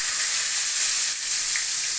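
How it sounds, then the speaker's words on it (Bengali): Water lily stems (shapla) fry in hot oil with nigella seeds, giving a steady, close hiss and sizzle throughout with no voices. "শাপলাটা ভাজা করে দেখাচ্ছি কিভাবে করি"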